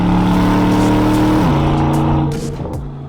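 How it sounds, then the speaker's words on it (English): Aston Martin DBX engine and exhaust in Sport Plus mode, a loud close-up droning growl with a pitch step partway through, then easing off as the sound fades slightly near the end. "The exhaust system I like to have in Sport Plus because I like that more order content from the engine."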